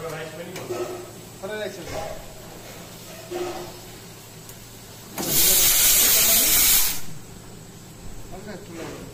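Steam bursts from a pressure cooker in a restaurant kitchen, a loud continuous hiss of about two seconds that stands well above the quieter kitchen sounds and talk before and after it.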